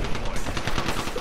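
Gunfire from the Apex Legends battle royale game, a dense burst of rapid shots in quick succession, loud and close, filling the moment without talk.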